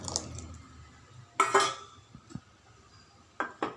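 Kuzhambu gravy is stirred in a pot in a village kitchen, a few metal ladle clinks and knocks against the vessel spaced apart in a quiet room, close by, with no voices.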